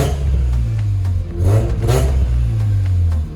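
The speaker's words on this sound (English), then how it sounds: "give you a little rev. Not gonna bring it too high though" A Mazda RX7 FC, left sitting for over 10 years, revving to about 4,000 rpm: a steady idle rises into two throaty revs and falls back, loud and close.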